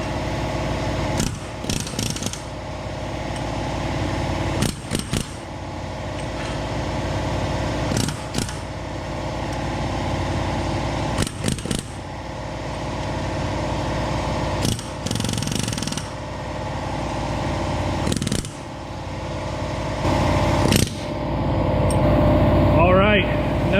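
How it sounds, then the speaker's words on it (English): Air chisel hammering at bearings on a BMW E39 differential carrier, coming in repeated loud bursts of rapid pneumatic rattling with brief pauses between, over steady shop noise. "I'm okay taking an air chisel and digging in there"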